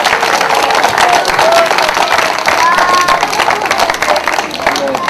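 A crowd claps and cheers for a torch-juggling street show in a town piazza in Montefusco. The applause is dense and steady, with scattered voices and whistles mixed in throughout.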